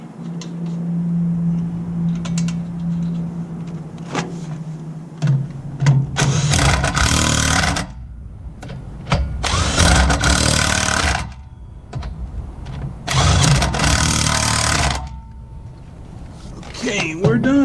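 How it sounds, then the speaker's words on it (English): A cordless impact wrench fastens lug nuts on the rear wheel of a Cadillac DeVille during a brake pad and rotor job, firing three loud, close, sustained rattling bursts of about two seconds each with quieter gaps between. "What did I ever do before I bought a cordless impact wrench?"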